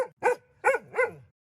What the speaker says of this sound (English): I heard some wild barking and angry screaming